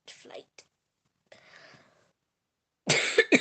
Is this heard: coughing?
yes